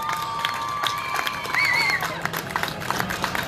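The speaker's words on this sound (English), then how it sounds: "Big round of applause for Mr. Kotyk here." Crowd at the SCCA Runoffs trophy presentation applauding and cheering for a race winner, a continuous mid-level wash of claps and voices with a brief whistle-like tone partway through.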